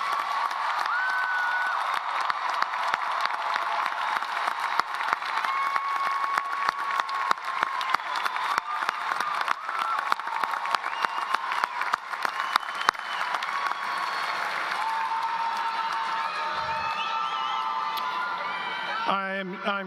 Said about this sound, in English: Please join me in one last round of applause for our graduates.